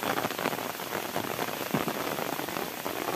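Heavy rain pours steadily onto surfaces outdoors while a flat bed for vegetables is being made, a dense, unbroken hiss with no voices.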